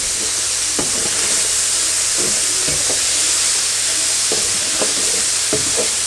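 Pork loin frying in a pan with its juices caramelizing on the bottom, a loud, constant close sizzle and hiss with occasional scraping stirs and knocks throughout.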